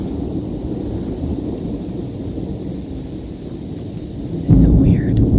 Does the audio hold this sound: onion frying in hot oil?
no